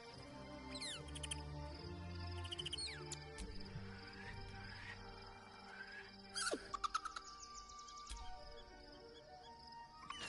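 Owlbear cub calls in Baldur's Gate 3, a series of high, chirping and hooting creature cries over layered game music and ambience, with a sharper burst of calls partway through.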